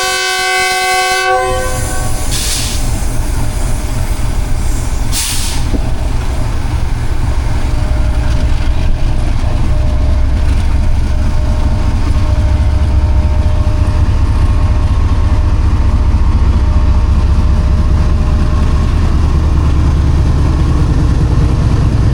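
The Shalimar Express pulls away from a station: a loud train horn opens, then the engine's heavy, continuous rumble and rolling wagon noise carry on steadily and close by.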